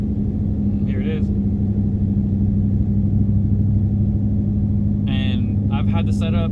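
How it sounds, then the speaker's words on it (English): An S550 Mustang with an aftermarket exhaust cruises at 30 mph in 4th gear, a steady low droning rumble heard from inside the car, with brief faint chirpy sounds near the start and end. "if you want to hear cruising at 30 miles an hour in 4th gear,"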